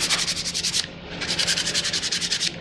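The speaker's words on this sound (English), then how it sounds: "you might just sand a little away" Rapid back-and-forth sanding of a wooden part from a Gerstner 35A/35B kit chest, close and loud, in two bursts of rhythmic rasping strokes with a brief pause between them.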